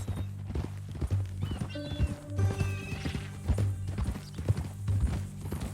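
Horse hooves clip-clop in an irregular rhythm while a horse whinnies in the middle, with sharp game-like sound effects, in the video game Red Dead Redemption 2.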